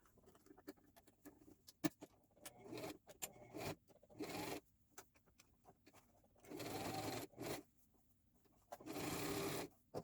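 A sewing machine stitches a frontal wig in several short bursts of rapid whirring, close and fairly quiet, separated by pauses with faint handling sounds and no talking.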